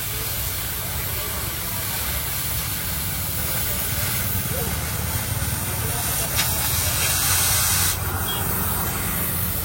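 A steady, loud hiss of cutting torches melting and cutting metal during crane setup for lifting the Khairatabad Ganesh idol, continuous and roaring without a break, with voices faintly underneath.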